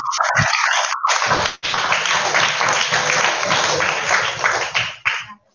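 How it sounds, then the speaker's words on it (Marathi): A room of children breaks into loud, sustained applause after a pause, with a brief break before the clapping swells again and fades out near the end. "संजयसाठी टाळ्या वाजवा, खूप चांगली हिंमत केली त्याने."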